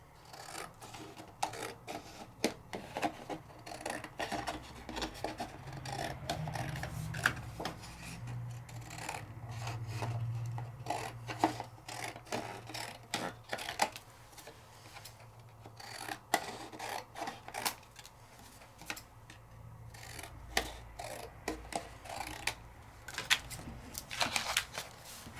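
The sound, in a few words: trimming paper by hand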